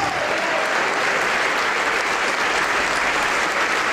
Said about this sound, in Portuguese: Ô glória, vamos aplaudir mais